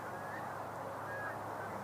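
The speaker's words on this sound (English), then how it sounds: "More Canada geese coming in." Canada geese honking as a flock flies in over open country where sandhill cranes gather, a steady chorus of overlapping calls somewhat distant under continuous background noise.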